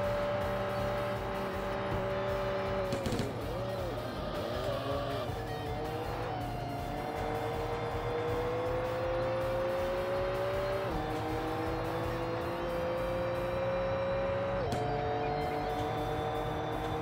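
Video game race between a Nissan Skyline R34 and a Toyota Supra, engines droning and rising in pitch as the cars accelerate, with gear shifts and brief dips before the revs climb again, moderately quiet and without talk.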